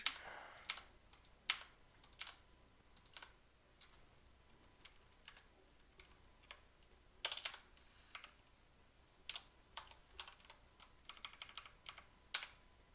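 Typing on a computer keyboard, quiet close key clicks in irregular bursts and single taps, with short pauses between runs, alone against near silence.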